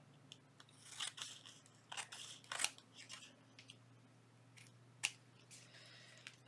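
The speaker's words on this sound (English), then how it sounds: "now I'm going to trim that off" Scissors trimming paper for a junk journal spring tag, a handful of quiet, crisp snips spaced out over several seconds, close up and with no talking.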